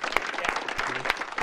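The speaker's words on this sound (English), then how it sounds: "We all have a round of applause for Connor McGuire." Brief applause for Connor McGuire, scattered claps with a few loud, distinct hits over a background murmur, with a faint tonal voice-like sound in the middle.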